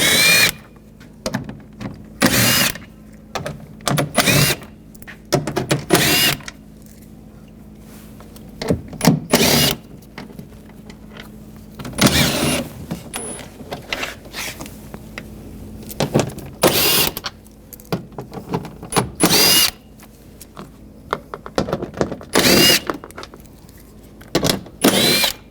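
A power tool with a 10mm socket backs bolts out around a 2011-2018 Ram 1500 front door panel, giving repeated short whirring bursts that stop and start, close and loud, with quiet handling noise in the gaps.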